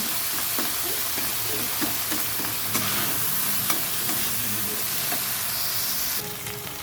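A paneer dish with cumin powder being stirred in a hot pan, a steady sizzle running throughout. A spatula scrapes the pan rhythmically, and a brief change in tone comes near the end.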